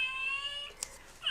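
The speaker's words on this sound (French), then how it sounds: "on entend le chat qui miaule" Electronic cat meow from a baby's sound picture book toy, a single short, tinny, high-pitched mew that rises and then falls, followed by a brief click of the button.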